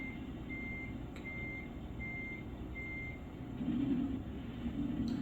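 In the video game American Truck Simulator, four evenly spaced reversing beeps sound over the low rumble of a truck engine, which grows louder toward the end.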